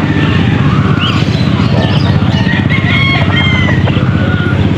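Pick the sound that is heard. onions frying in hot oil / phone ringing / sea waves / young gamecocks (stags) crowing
young gamecocks (stags) crowing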